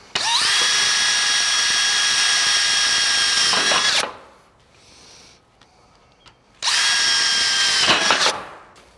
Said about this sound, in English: I'm gonna pre-drill my holes,